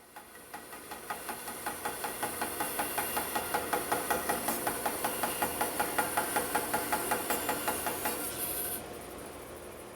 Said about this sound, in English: So I'm just going to rough these out over here at the bandsaw, using my new Laguna 18-inch bandsaw